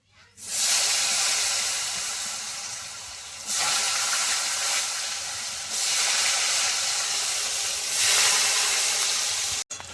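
Cut potatoes fry in oil with whole garam masala, cardamom, cloves, cinnamon and black cumin, giving a loud, steady sizzling hiss that swells in several surges over the whole stretch, with no one talking.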